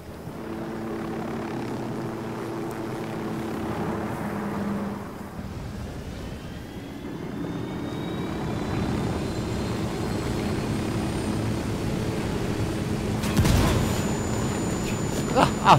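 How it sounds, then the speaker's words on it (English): A helicopter flies overhead in a video game with a steady, droning rotor thrum, and a burst of sharp gunfire-like cracks comes near the end. "Oh, helicopter."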